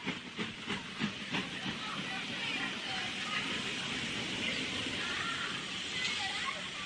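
Steam locomotive hissing at a railway station platform, a steady loud wash of escaping steam with a few rhythmic chuffs at the start, faint voices underneath.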